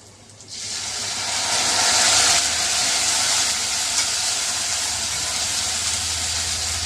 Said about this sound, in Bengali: প্রথমে কড়াইয়ে তেল দিয়ে একটু পেঁয়াজ কুচি আর দুটো কাঁচা লঙ্কা কুচি করে কেটে ভেজে নিলাম